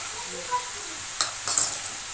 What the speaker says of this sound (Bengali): এটা ভালো করে কষিয়ে নিচ্ছি